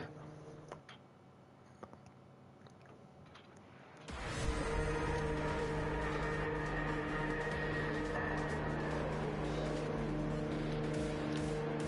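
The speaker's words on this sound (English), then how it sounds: "Somebody's rising the engine notes." Race car engines in Gran Turismo 7 on the Spa, Belgium circuit sit at a quiet idle with faint ticks, then abruptly surge into a loud, sustained massed revving drone of many cars together before a rolling start.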